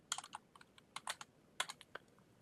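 Keys on a computer keyboard are tapped in quick, uneven bursts of light clicks, close and fairly quiet, with no talking.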